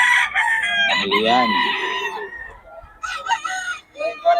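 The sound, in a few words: gamefowl rooster crowing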